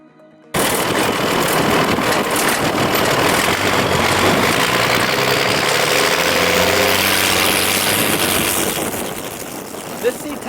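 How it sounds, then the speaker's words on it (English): A 5.9-liter 12-valve Cummins 6BT inline-six diesel swapped into a 1963 Chevy C10 pickup runs loud and close, a dense, steady clattering rumble holding for several seconds before easing slightly at the end. "It has a 12-valve Cummins conversion done to it."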